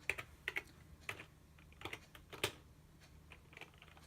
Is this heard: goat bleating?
no